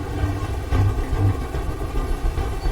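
A steady, droning helicopter rotor thrum from the video game Detroit: Become Human fills the scene, fairly loud and continuous, with a faint rhythmic chop.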